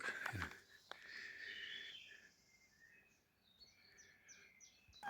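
Faint bird calls repeat in short chirping phrases in a quiet outdoor setting in Poland, after a brief noisy bump at the start.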